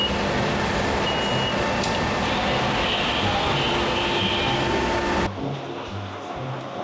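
A commuter PATH train rumbles steadily into a station in the New York area with a broad mechanical roar, then the noise drops off as it slows and settles.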